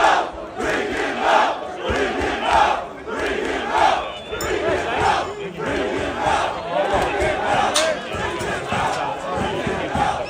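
A large, agitated crowd shouts outside a church, demanding police hand over an attacker; loud rhythmic chanting surges in repeated waves, dense massed voices close by.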